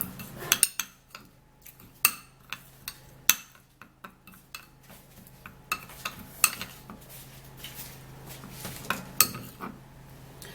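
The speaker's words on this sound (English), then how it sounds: "now we're going to mix this and mix it really great." A spoon scrapes and clinks against a bowl while stirring a honey mixture for a homemade skin scrub, giving irregular sharp taps and scrapes over about ten seconds with no talking.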